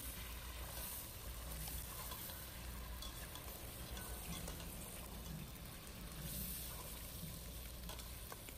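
Chicken pieces coated in turmeric, chili and salt fry in hot oil, giving a steady, faint sizzle with soft stirring noises throughout.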